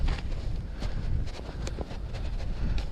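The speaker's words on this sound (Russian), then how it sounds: "А ветер все сильнее и сильнее." A strong southerly wind buffets the microphone in low, rumbling gusts, continuous and fairly loud, with faint knocks and rustles in the open air by a river.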